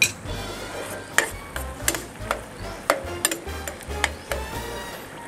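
Garlic cooks in a pan with a faint sizzle under repeated sharp ticks and scrapes of a utensil stirring against the pan, in an irregular rhythm, with no talk.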